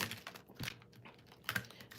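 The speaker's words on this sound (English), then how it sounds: "don't judge my shuffle, okay?" A deck of cards being shuffled: quick soft ruffling and riffling bursts with brief pauses, faint and close.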